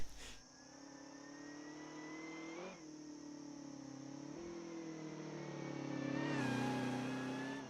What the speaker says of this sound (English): God, that's a loud car.